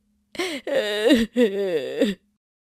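A woman crying in anguish after her small home is destroyed, three close, loud wailing sobs with rising and falling pitch, separated by short breaks, alone against silence.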